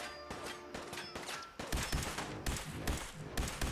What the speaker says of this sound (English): I'm seeing the laser fire.